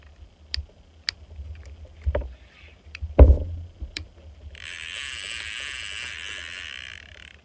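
The clicker on an Alijos 12S SE lever drag fishing reel gives a few sharp, isolated clicks and a thump, then a steady, fast, buzzing ratchet rattle for the last few seconds.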